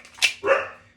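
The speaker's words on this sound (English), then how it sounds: "You guys hear my dog?" A dog barks twice close by: a sharp yip followed by a fuller, louder bark that trails off.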